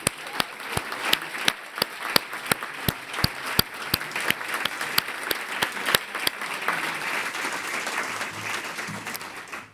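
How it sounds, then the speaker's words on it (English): An audience in a room at the Commonwealth Awards breaks into a round of applause, sharp near claps pulsing over a softer spread of clapping that fades toward the end. "can we please give a huge round of applause to everyone in the room?"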